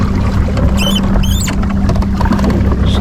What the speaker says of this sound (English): I gotta loosen that quick so it's not making that squealing noise.